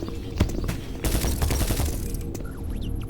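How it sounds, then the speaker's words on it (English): Enemy gunfire in Doom 3 rattles in dense bursts, sharp cracks piling into a sustained fusillade with a few heavier booms, loud and close throughout. "Why are you shooting at me?"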